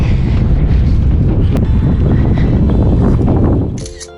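Strong wind buffets the microphone in a loud, continuous roar that fades out near the end.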